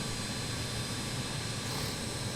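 The two jet engines of a BAe146 run steadily in a flight simulator game, a loud, constant roar and whine heard from outside the airliner with no break.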